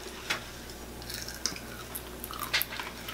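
Crunchy Popeyes fried chicken is chewed close up, soft crackling bites repeating irregularly over a steady low room hum, with no talking.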